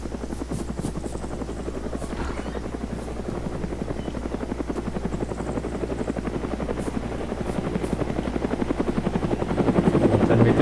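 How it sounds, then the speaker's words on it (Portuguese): Helicopter in the video game Arma 3, a steady close rotor thud and turbine drone running the whole way with a low engine hum, growing slightly louder toward the end. "Vou tentar meter bala nesse helicóptero."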